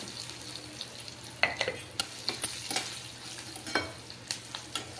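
Curry leaves frying in oil in a pan for jeera rice, a quiet steady sizzle broken by repeated light scraping and clinking as a spoon stirs.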